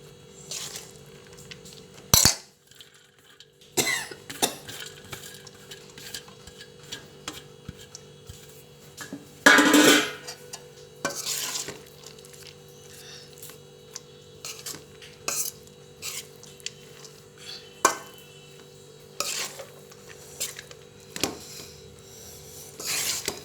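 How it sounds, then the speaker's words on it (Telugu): Rice is stirred into a tomato mixture in a pan, with scattered scraping and clinking of a spoon against the pan at irregular intervals over a quiet background hum. "తర్వాత ఇంకా అన్నం వేసుకొని కలిపేసుకోవడమే."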